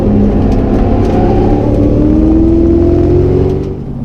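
A Mazda RX7 with a swapped LS V8 engine cruises in a high gear, a loud, steady low engine drone from inside the car with a slowly rising tone, easing off at the end.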